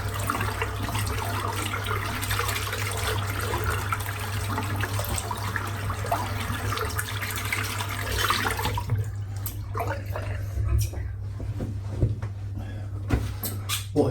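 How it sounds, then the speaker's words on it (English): A shaving brush is rinsed under a running tap, a steady rush of water for about nine seconds, then the flow stops and a few scattered knocks and drips follow. "I'm just going to rinse the soap out."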